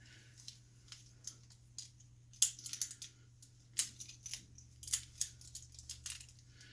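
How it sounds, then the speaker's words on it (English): Metal links of a Wotow Onewheel foldable lock folding one by one around the lock housing, giving a series of close, light clinks and ticks at an irregular pace over a faint steady hum. "now you're going to fold all these other links right around this lock housing"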